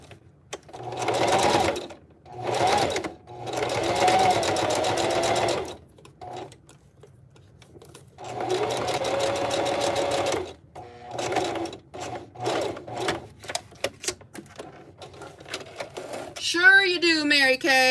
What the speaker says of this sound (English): I'm gonna go ahead and sew this closed really quickly.